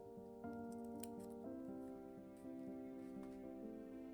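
Scissors snip a planner sticker sheet in an A5 planner, a series of crisp close cuts spaced about a second apart over a steady background tone, with no talking.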